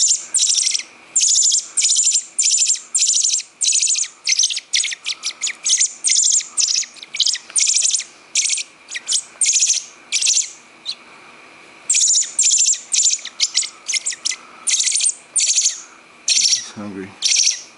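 A hungry baby bird chirps loudly and insistently in rapid, high-pitched bursts close by, with short pauses between runs of calls and no talking.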